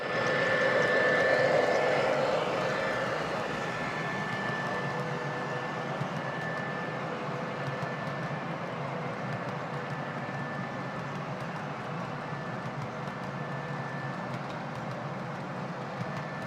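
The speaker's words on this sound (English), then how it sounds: "Here's my oil train running on the old layout" An O-gauge model oil train runs on a layout with a continuous low rumble and whir, a faint steady tone riding above, louder at first then settling to an even hum.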